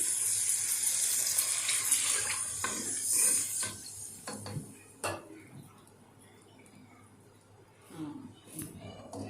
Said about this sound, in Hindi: और अब मैं इसमें पानी डालूंगी।